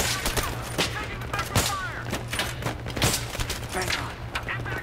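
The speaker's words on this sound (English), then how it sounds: "Who is shooting me?" Gunfire in the Battlefield 3 campaign: repeated sharp shots in irregular bursts, loud and close, over a steady game background, with some voice mixed in.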